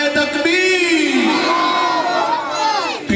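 A large crowd at a religious gathering roars back a slogan in unison, a loud sustained chorus of many voices lasting about three seconds before breaking off.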